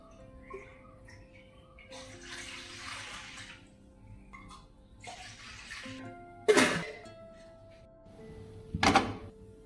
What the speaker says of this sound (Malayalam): അടുപ്പിൽ എപ്പോഴും ചൂടുവെള്ളം ഉള്ളത് കൊണ്ട് ആ വെള്ളമാണ് നമ്മൾ എടുക്കുന്നത്.